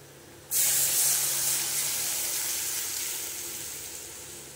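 Water poured into frying spice paste in hot oil sets off a sudden loud hiss and sizzle that bursts in after a short quiet lead-in, then holds steady and fades gently as the pan settles.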